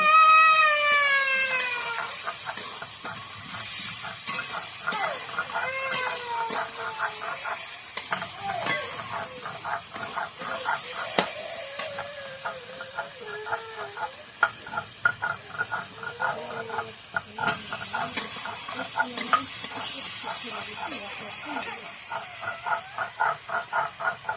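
Potatoes fry in a spiced masala in a pan, sizzling steadily up close while a spoon scrapes and stirs in quick repeated strokes.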